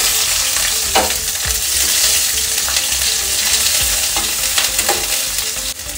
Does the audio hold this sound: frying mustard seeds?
yes